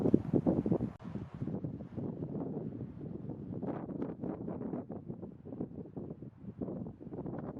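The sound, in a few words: breeze blowing on mountain trail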